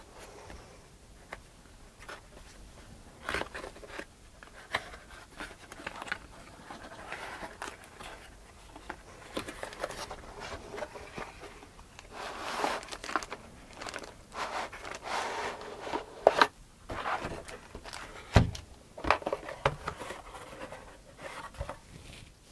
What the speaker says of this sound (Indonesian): dan langsung saja kita mulai unboxing sama-sama